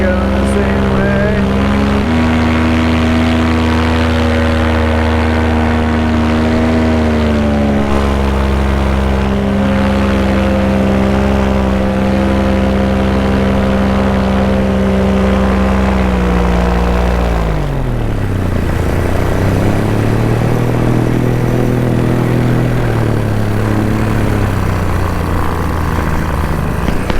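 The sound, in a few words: Vittorazi Moster 185 paramotor engine taking off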